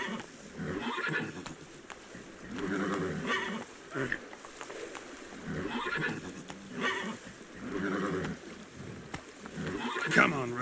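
Roach, the horse in The Witcher 3, gallops with rhythmic hoofbeats and occasional snorts while someone talks over the riding in game dialogue.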